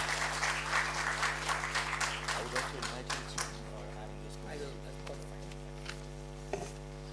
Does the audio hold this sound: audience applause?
yes